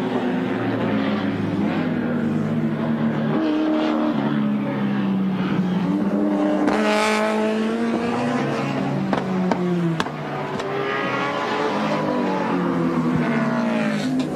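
A BMW touring race car at Bathurst in 1987 roars past at full power, its engine note climbing and falling through gear changes, loud and close with a commentator talking over it.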